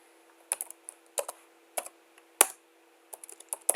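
Keystrokes on a computer keyboard as a root password is typed at a Linux command line, arriving in short irregular clusters of clicks with pauses between them, close and fairly quiet with no talking.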